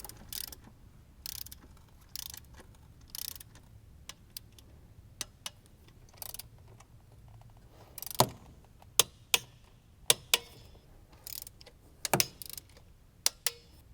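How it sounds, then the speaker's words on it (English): A torque wrench tightens the valve cover bolts on a Gen 3 HEMI engine, giving quiet ratcheting clicks at first, then a series of sharp, close clicks that come singly and in small groups near the end. "we can torque them down following the sequence that's listed in the instructions"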